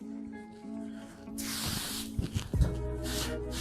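Spray starch hisses onto a shirt ahead of ironing in a short close burst, followed by soft fabric rustling and handling.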